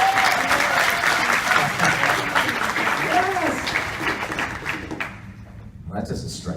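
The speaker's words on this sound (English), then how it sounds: "let's get started with another round of applause" A crowd at a Comic-Con 2018 voice-over panel applauds with dense, sustained clapping while voices talk over it; the applause thins out and fades toward the end.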